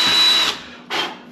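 Close by, a power drill with a bit bores into a hockey stick, giving one loud whirring burst of about half a second, a short pause, then a second shorter burst, with no voices.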